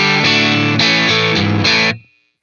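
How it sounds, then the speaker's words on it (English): Electric guitar with overdrive, recorded through a compressor plugin on a Universal Audio Apollo interface, plays a few loud distorted chords in quick succession, then rings out and fades away, with no speech. "So I'm going to throw on a little overdrive here."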